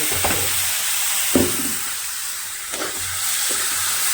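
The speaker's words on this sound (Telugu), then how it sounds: "చక్కగా ఇప్పుడు చట్నీ మనం ఇందులో వేసేస్తున్నాం" Chutney tipped into a hot curry-leaf tempering, giving a steady close sizzle and hiss with a few soft stirring scrapes and clatters, no voices.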